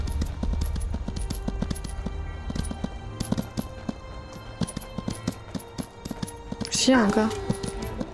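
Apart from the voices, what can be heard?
horse hoofbeats in video game Skyrim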